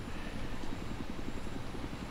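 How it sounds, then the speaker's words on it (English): A helicopter in Battlefield 3 flies with a steady rotor chop, its rhythmic thumping pulses under a broad engine drone, fairly faint and continuous with no speech. "I'm flying the heli."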